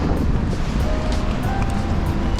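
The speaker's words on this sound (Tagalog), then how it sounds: "Oh, grabe ang ulan." Heavy rain pours down in an Australian city street near a train station, a dense, loud, steady wash of noise with no breaks.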